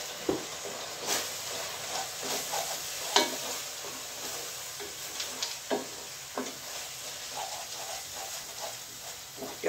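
Flour is stirred into a sizzling roux in a pan for French onion soup, a steady close frying hiss broken by scraping, clicking stirs throughout, with no talk.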